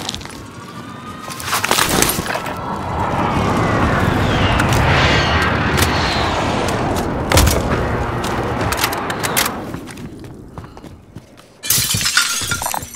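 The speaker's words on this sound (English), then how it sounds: "Friendly precision airstrike inbound." Precision airstrike explosions in Call of Duty Warzone on Rebirth Island: a sustained roaring barrage of blasts and debris rumbling loud and continuous for several seconds, then dropping away before a fresh sharp burst near the end.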